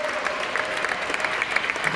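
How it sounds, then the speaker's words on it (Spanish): Audience applause at a Hispanic Heritage Month event inside the New York Hall of Science, steady, even clapping from a room of people, fairly faint and continuous. "Fuerte aplauso."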